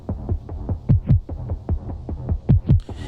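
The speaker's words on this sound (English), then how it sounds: "with the heartbeat thing here, I really like it's adding some of that pulse to the track" Heartbeat pulse effect in cinematic trailer music, deep paired thumps repeating in a steady throbbing rhythm, loud and close, swelling slightly in strength across the passage with no voices.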